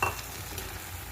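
Fresh green fenugreek leaves hit a pan of spiced green pigeon-pea curry, giving a steady, close sizzling hiss with light stirring throughout and no voices.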